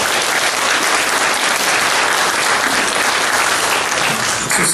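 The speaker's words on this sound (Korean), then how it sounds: "박수 소리가 별로 이게 은혜스럽지 않네요" A church congregation claps in encouragement for the choir after a hymn, with dense, continuous applause filling the whole stretch at a steady, loud level and no speech over it.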